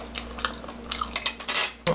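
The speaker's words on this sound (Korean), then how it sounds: "상추의 그 줄기 부분이 아삭아삭 씹힙니다" Someone bites into crisp pan-fried lettuce pancake made with gochujang batter, giving several short crunchy chews close to the mic, with faint clinks of cutlery or dishes.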